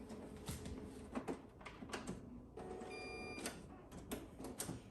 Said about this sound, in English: printer problems.